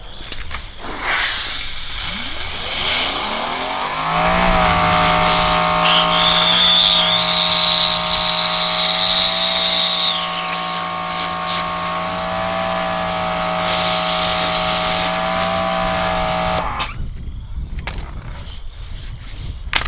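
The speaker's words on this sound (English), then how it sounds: "2300 PSI pressure washer." A 2300 PSI pressure washer with a turbo nozzle blasting water onto the fabric top of a Jeep Wrangler JL, a loud, steady hiss and motor hum with a whining tone that runs for about twelve seconds before cutting off.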